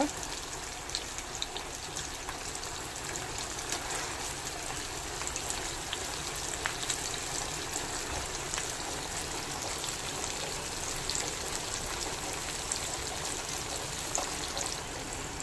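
Fish frying in hot oil, Mangalore-style rava-coated buthai (sardines), gives a steady, close crackling sizzle with fine pops throughout and no talk.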